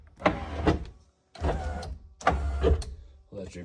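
Three separate whirring motor runs, each a second or so long, with short pauses between, close and fairly quiet: the power windows of a Toyota Supra drift car moving up and down.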